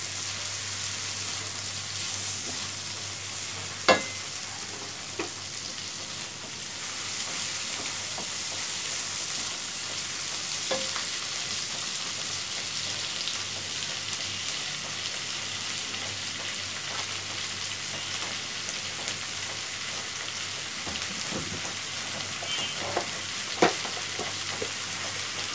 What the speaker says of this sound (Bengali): এর ভিতরে টমেটো কুচিগুলো দিয়ে দিব। দিয়ে নাড়তে থাকবো।